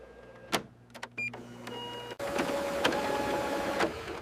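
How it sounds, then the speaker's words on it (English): An HP DeskJet 4155e inkjet printer prints an alignment page, with whirring motor runs, clicks and short mechanical bursts followed by a steady louder feed-and-print drone, close up and free of talk. "the printer may print an alignment page"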